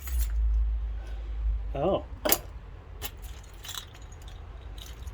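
A bunch of car keys from a vehicle fleet jangles in brief metallic clinks and rattles over a low background rumble, with a short spoken exclamation.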